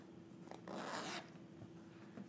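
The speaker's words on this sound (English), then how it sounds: "So when you open up your zipper" A zipper on a jeans fly is pulled open in one soft, brief rasping sweep, quiet and close, surrounded by faint rustling of fabric.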